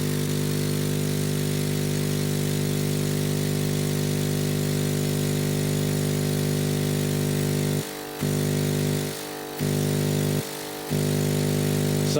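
A Hailea ACO 318 45-watt air pump, used as laser air assist, runs with a steady, loud hum and buzzing motor drone that carries through the whole stretch, cut briefly three times near the end.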